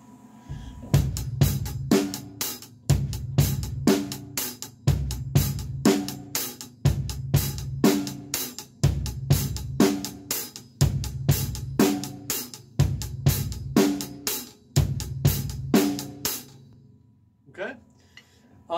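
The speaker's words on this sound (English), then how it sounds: "Okay, add the kick and the snare in, it sounds like this." Drum kit groove from a lesson on overlaying hi-hat patterns, with a busy hi-hat layered over kick and snare in a steady repeating beat, close and punchy, followed by a short bit of talking at the end.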